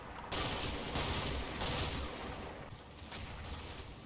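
Faint, distant volleys of suppressive small-arms fire in the WWII tactical video game Combat Mission Fortress Italy form a continuous rattling fusillade with a few louder bursts.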